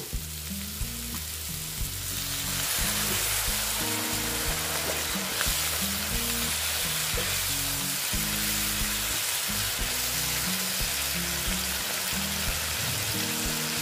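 A soybean and egg curry hisses and sizzles steadily in a hot pan after water is poured in, a loud continuous frying crackle with no talking.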